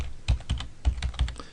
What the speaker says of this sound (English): So I just start typing in here